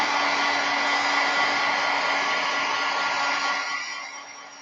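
A hair dryer runs continuously at close range, drying wet watercolor paint on paper with a steady whooshing hum that holds and then starts to fade toward the end.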